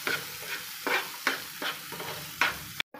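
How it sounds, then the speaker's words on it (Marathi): Green chickpeas sauté with red chili powder in a pan, a quiet steady sizzle broken by several short scraping strokes of a stirring spoon. "अर्धा चमचा लाल तिखट घालायचं आणि पुन्हा एकदा परतून घ्यायचं।"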